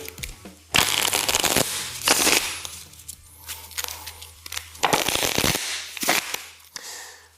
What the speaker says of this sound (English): ask them to give it a good shuffle, give it a good mix